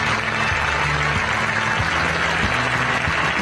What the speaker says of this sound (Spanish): El aplauso para Alex el Mágico